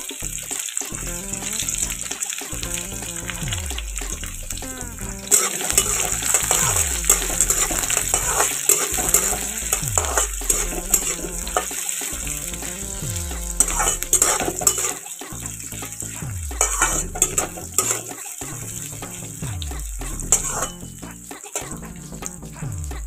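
Chopped onions fry with whole garam masala, cardamom and cloves, a bright sizzle punctuated by a steady run of stirring clatters and scrapes against the pan.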